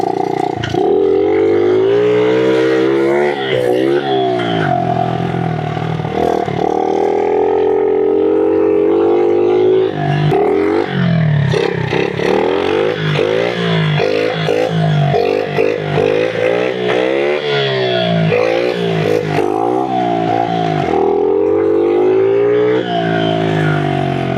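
A 1997 Honda XR70R pit bike engine revs loud and close, its pitch rising and falling repeatedly as it shifts gears, with no talking over the motor.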